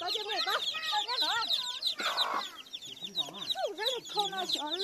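A hen clucks repeatedly up close, rising and falling chirpy calls in quick bursts, with a brief rustling noise midway and other fowl faintly in the background.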